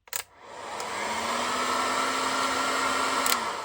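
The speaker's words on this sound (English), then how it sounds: "this is the only tool I need, and it is a heat gun." A heat gun set to 130 degrees blows hot air onto the neck post of a 1990s GI Joe Action Man figure, a steady close whoosh that starts after a click and runs unbroken.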